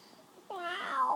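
A child imitates a cat's meow, producing a single drawn-out, wavering meow-like vocal sound, close and clear after a brief quiet moment.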